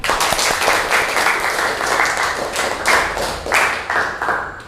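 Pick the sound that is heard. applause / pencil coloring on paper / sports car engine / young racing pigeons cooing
applause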